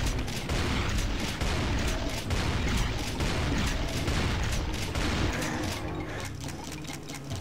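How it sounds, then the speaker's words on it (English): Enemies fire guns nonstop in Brutal Doom, a dense, loud fusillade of overlapping shots and booms with no break, with no talking. "Why am I getting fired at by stuff?"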